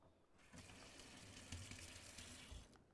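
Flat parsley rinsed under a running kitchen tap, a steady wash of water splashing for about two and a half seconds, moderately close and with no talking over it.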